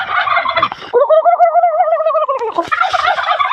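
A turkey gobbles loudly and close, a warbling rattling call lasting a couple of seconds, with other bird noises before and after.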